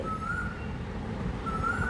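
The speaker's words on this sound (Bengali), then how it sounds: "কোকিলের কুহু কুহু তান, ভরিয়ে দিচ্ছে মনোপ্রাণ" An Asian koel calls twice, at the start and again near the end, each a clear rising whistle heard at a moderate distance over a low, constant outdoor background hum.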